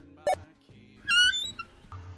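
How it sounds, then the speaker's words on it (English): A door creaks open with a rising squeak lasting about a third of a second, between faint soft knocks and room noise in an audio drama scene. "I hear the door open."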